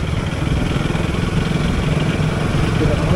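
A BS4 motorcycle engine runs steadily up close, a low throbbing rumble with constant loudness and no breaks.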